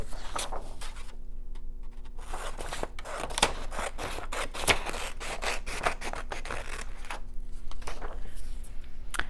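Scissors cut through a strip of paper with rapid, crisp snips and rustling, steady and close for several seconds.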